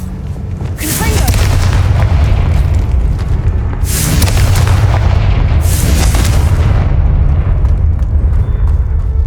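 Several deep booming blasts from a Confringo fire spell sound in Hogwarts Legacy, spaced over a continuous rumbling game soundscape, each burst loud and close with a crackling tail.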